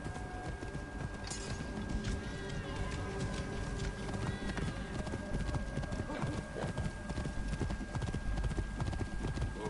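Clip-clop of horse hooves in a video game, a steady rhythmic trot close by with a brief whinny, over game ambience and background effects.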